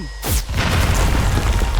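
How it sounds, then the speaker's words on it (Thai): A single bomb goes off after a brief quiet, a sudden loud boom that rolls into a dense, sustained roar and rumble of debris. "มันคือระเบิดใช่แล้ว"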